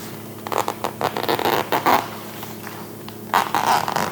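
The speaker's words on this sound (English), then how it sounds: "I'd say this is a zipper you have to be a little careful with" Short bursts of zipper pulls on a padded DJI Mini 3 Pro drone carrying bag, a few quick rasping drags separated by pauses, close and moderately quiet.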